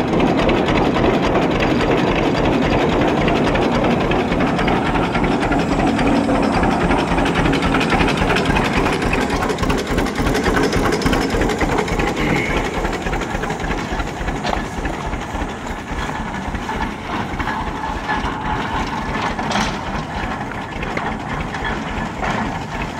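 A Dain hay press driven by a John Deere D tractor runs continuously, giving a loud, close, rhythmic mechanical clatter over a steady engine drone that eases slightly later on.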